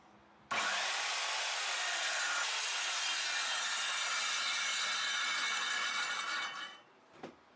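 A table-mounted circular saw, running with no workpiece, spins up abruptly and runs at a steady high-pitched whine for about six seconds, then winds down, with a brief knock at the end.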